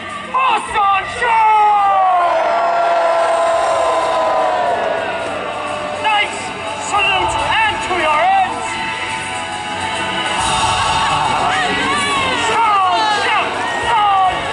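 Spectators at a Pennsylvania Renaissance faire Halloween joust cheer for the knight Sancho with loud whoops, hollers and rhythmic chanting voices, swelling in repeated waves across the crowd.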